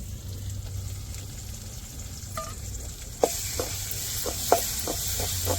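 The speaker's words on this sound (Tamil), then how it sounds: "நல்லா இஞ்சி பூண்டு பச்சை வாடை மாறப்பட்டுக்கு வெங்காயத்தோடு நல்லா வதக்கி விட்டுக்கிடுவோம்" Ginger-garlic paste and onions sautéing in a pan for a fish fry, a steady sizzle with a few sharp stirring clacks of a spoon against the pan in the latter half.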